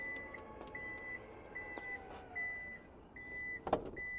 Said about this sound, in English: You have an electric tailgate